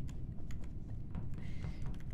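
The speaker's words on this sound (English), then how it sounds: "Sounded like a hamster was making love to her keyboard." Fast typing on a computer keyboard, a dense patter of light key clicks heard faintly over a low background hum.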